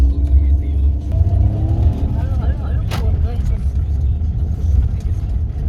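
A car carries passengers along a road, its engine and tyre rumble a steady low drone throughout, loud and close, with people talking in the cabin over it.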